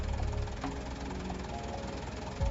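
A low, steady engine drone echoing through a cave in a horror video game, rumbling distant but constant, with a faint thud near the end.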